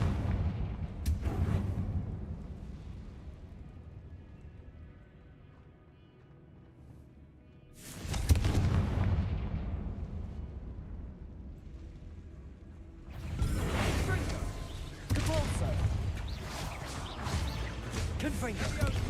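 Confringo spell blasts in Hogwarts Legacy: three loud, booming explosions separated by several seconds, each fading into a rumbling tail. A voice is heard in the gaps.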